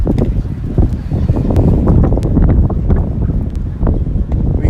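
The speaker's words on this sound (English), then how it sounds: "we got some pretty good gusts, over 15 miles per hour" Strong, gusty wind buffets the microphone outdoors at a varsity baseball game, a continuous loud rumbling roar that surges and dips with each gust, punctuated by brief crackles and knocks.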